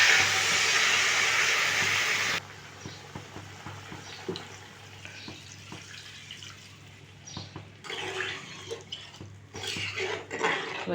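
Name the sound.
water poured into cooking ridge gourd prawn curry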